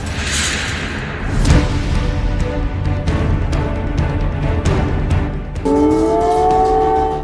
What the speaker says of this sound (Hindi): कीव में मिसाइल वाला सायरन बज रहा है।